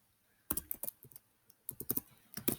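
Short bursts of keystrokes on a computer keyboard while Python code is typed, clustered clicks in quick runs separated by brief pauses, close and clear with no talk.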